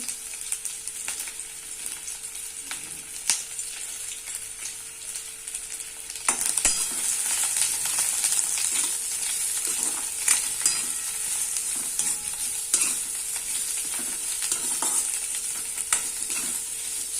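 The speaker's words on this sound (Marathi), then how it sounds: "तेल थोडंसं नॉर्मल गरम झालं का याच्यामध्ये कांदे टाकायचे।" Two onions fry in a spoonful of hot oil in a pan, a continuous close sizzle that grows louder and hissier partway through, with occasional clicks from stirring.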